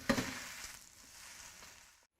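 Char kuey teow noodles with bean sprouts sizzle in a hot stir-fry pan, a sharp burst at the start settling into a steady, moderate hiss that fades out as the heat is turned off.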